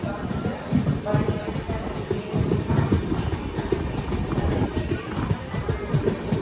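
The Brindavan Express, an intercity train from Chennai to Bengaluru, runs with a loud, close rumble and rhythmic wheel clatter, heard from inside the coach. Faint voices sit under the continuous, pulsing noise.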